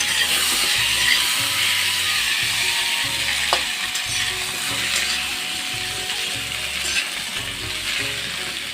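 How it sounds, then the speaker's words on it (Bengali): Potatoes frying in the oil left from cooking rohu fish, a steady loud sizzling hiss with occasional light stirring clinks, close up and without any talking. "মাছের তেলের ভিতরে আলুগুলো ফ্রাই করে নিচ্ছি"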